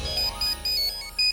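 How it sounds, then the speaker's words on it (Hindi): A phone rings in a domestic TV drama scene, repeated bright electronic ringtone bursts in a steady on-off pattern, clear and close with no talking over it. "ये लो फोन आ गया।"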